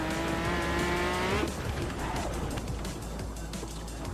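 A powerful air-cooled car engine revs hard with a rising, strained tone for about a second and a half, then drops into a rough, loud mechanical drone that carries on to the end with no voices.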